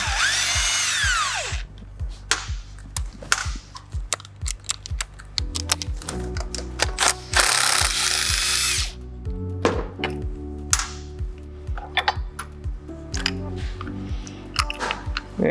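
A socket wrench with 13 and 14 mm sockets works the rear brake caliper bolts on an SG400 motorcycle, giving dense, close ratcheting clicks and metallic taps in irregular runs, with a short harsher burst midway.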